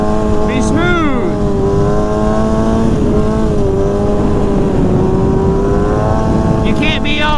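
A stunt motorcycle engine revs under throttle, loud and close, its pitch rising and falling in wavering sweeps over a continuous rough drone, with a voice calling out briefly.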